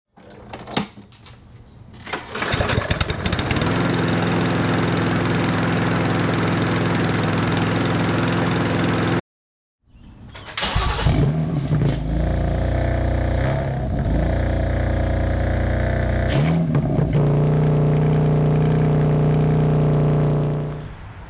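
A BMW M3 engine with aftermarket exhaust runs loud and close, a deep rumbling idle that revs up, cuts out briefly, then returns with rising and settling throttle.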